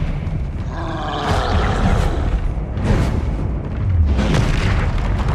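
Confringo blasting spell from the Hogwarts Legacy video game on PS5, a series of loud, booming explosions with roaring bursts at around one-second intervals, close and dense with no speech.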